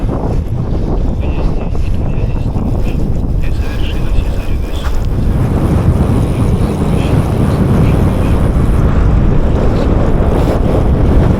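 Moderate wind buffets the microphone during a winter gravel bike ride, a loud, steady roaring rush that continues throughout.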